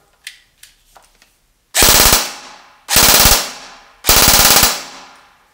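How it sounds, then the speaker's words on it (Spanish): A CXP UK1 Captain airsoft gun on an 11V LiPo battery fires three loud full-auto bursts, each a rapid rattle of shots about a second long, preceded by a few soft mechanical clicks. "para que ustedes puedan ver la cadencia de disparo"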